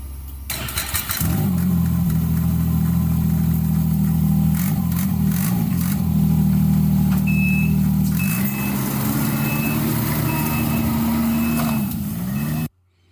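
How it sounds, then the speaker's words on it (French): A gasoline snowmobile engine drones loudly and steadily up close, its pitch shifting as it revs. A faint beeping enters partway through, and the sound cuts off abruptly at the end. "Comme vous l'avez entendu, il s'agit ici d'une motoneige à essence."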